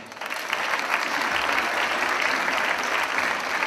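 A concert audience applauds a singer being welcomed to the stage: dense, steady clapping from many hands, fairly close and even in loudness from start to finish, with no voices breaking through.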